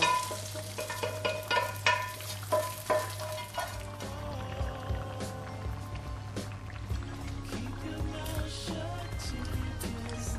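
Curry leaves and dried red chilies sizzling in a little hot oil for a South Indian fish curry, with bright crackles and pops early on settling into a softer steady sizzle, plus some stirring and a low background hum.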